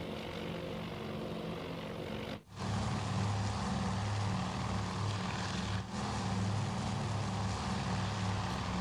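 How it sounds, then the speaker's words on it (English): Torpedo bomber aircraft in the naval strategy game Task Force Admiral, flying in formation before diving: a continuous, moderately quiet propeller-engine drone with a brief dip early on, steady throughout with no talking. "These torpedo bombers are not yet diving."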